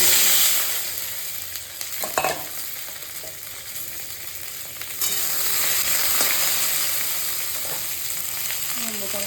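Okra frying in hot oil with green chili and black cumin, a steady loud sizzle throughout with occasional stirring scrapes and a brief surge in intensity midway.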